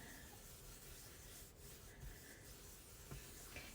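Ink being rubbed into a card with soft, steady scrubbing strokes, close and faint, with a few light taps of the applicator scattered through.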